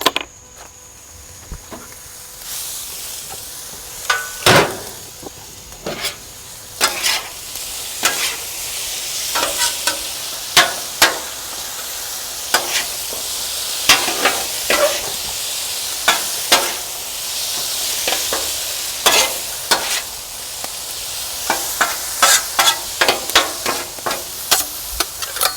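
Mixed vegetables (carrots, corn and peas) cook in butter, probably on a hibachi-style griddle, with a steady soft sizzle under frequent sharp clicks and scrapes of a utensil, close and unbroken by speech.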